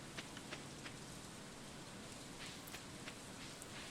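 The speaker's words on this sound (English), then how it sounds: "it's raining today, so I don't even have to water." Steady rain falls in the farming game Stardew Valley, a constant soft hiss of drops on the ground with faint scattered pattering, even and unbroken throughout with no one talking.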